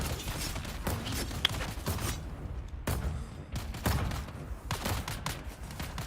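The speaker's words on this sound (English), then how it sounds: "shoot the other one, stupid turret" Turret gunfire in a video game, a dense continuous fusillade of rapid shots with mechanical clatter and booms running throughout, loud and sustained with brief dips, no one speaking.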